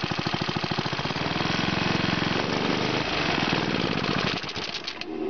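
A small mini bike engine runs nearby with a loud, fast, uneven chugging and rattling knock that holds steady, then dips and roughens near the end.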